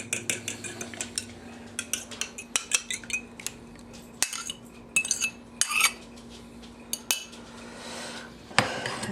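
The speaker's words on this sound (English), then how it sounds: "all I'm doing is mixing all those liquid things" Liquid ingredients for homemade pasta dough whisked with a utensil, rapid irregular clinks and taps of metal against a bowl in clustered bursts, with brief pauses and no talking.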